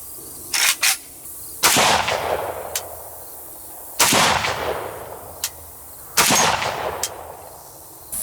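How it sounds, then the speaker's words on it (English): Three sharp, loud rifle shots spaced a couple of seconds apart, from a Century Arms C39 V2 AK-47 firing 7.62x39 soft-point rounds at a dumpster outdoors, each crack trailing into an echo, with a few faint clanks in between. "let's finish up with an AK-47. This is a Century Arms C39 V2."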